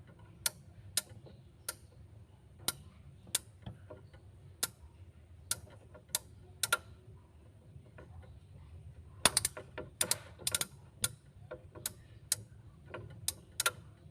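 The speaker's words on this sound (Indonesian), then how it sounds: "sampai ada bunyi klek" Refrigerator defrost timer being turned by hand, giving a slow series of sharp, close mechanical clicks and ticks in a quiet room, with a few rapid clusters of clicks near the end.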